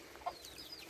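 Young chicks and hens in a backyard poultry setting give a couple of soft clucks and a few thin high peeps, faint against a quiet outdoor background with no talking.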